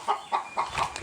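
A hen clucks in a goat pen on a small farm, five short, evenly spaced clucks close by with no talking.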